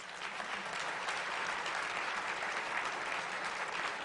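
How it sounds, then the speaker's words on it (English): An audience at a county government address breaks into sustained applause, an even, continuous roar of many hands clapping at moderate volume from start to finish. "Please give them a round of applause"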